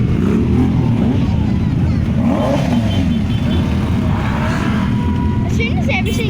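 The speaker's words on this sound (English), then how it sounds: "army of motorbikes is trying to kill me" A group of motorbikes on a motorcycle run roar and rev nearby in a loud, continuous engine drone, with voices mixed into the din.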